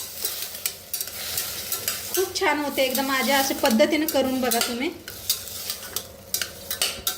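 A utensil stirs potatoes and salt in a sizzling frying pan with repeated rhythmic strokes, while someone speaks over it midway.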